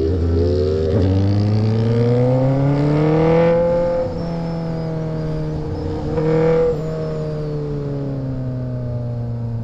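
Motorcycle engine running loudly close by after being restarted, revving up and down in long rising and falling sweeps with a steady drone between, no talk over it.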